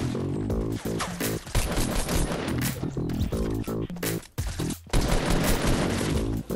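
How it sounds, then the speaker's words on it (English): Fortnite gunfire rattles in dense, rapid bursts, with loud overlapping shots and booms continuing almost without pause. "someone's shooting at me"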